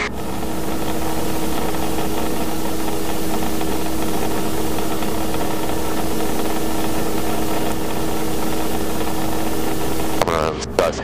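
Robinson R22 helicopter engine idling during a practice autorotation, a steady droning hum and vibration filling the cabin, with a brief clatter near the end.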